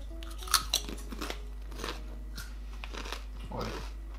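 Flavoured potato chips crunch and get chewed up close, with crisp bites in the first seconds and softer munching after, over a low steady hum in a home setting.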